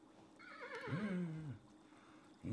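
A horse in the video game Kingdom Two Crowns lets out a single clear neigh, a wavering whinny that falls in pitch over about a second, heard alone and fairly close with faint ambient noise.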